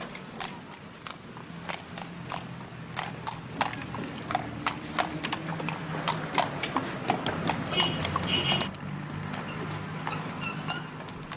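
Working horses' hooves clip-clop steadily along a Dublin street, the sharp, evenly spaced strikes sitting close and clear over a low rumble of passing traffic.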